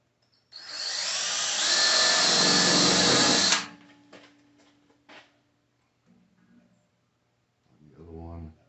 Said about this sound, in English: And make sure that drill point is right in that center punch.